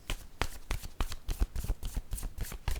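Cards being handled and shuffled from a word-card deck during a reading, a rapid run of close, papery flicks and riffles at an even pace with no voice.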